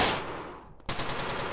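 Rapid automatic gunfire in GTA San Andreas multiplayer (SAMP) PvP, a quick run of evenly spaced loud shots starting abruptly after a quieter stretch with a falling whoosh.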